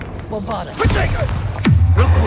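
Bombarda blasting spell from the video game Hogwarts Legacy, a sudden heavy thump with a low booming rumble that sweeps downward and lingers, set among game ambience and music.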